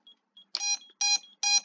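The buzzer on a Skystars Eagle S-221 DIY drone kit sounds three short, loud, clipped electronic beeps in an even rhythm, each preceded by faint small chirps, with no talking.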